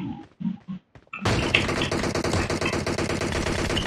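Rapid automatic gunfire from a PUBG-style battle royale game, a few scattered shots first, then a loud, sustained stream of dense bursts continuing to the end.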